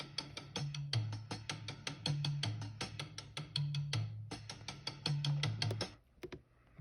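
Crisp gated hi-hat ticks in a fast, steady loop programmed in Maschine, with a rim-style click pattern and low pitched pulses repeating each bar, close and dry, stopping abruptly near the end.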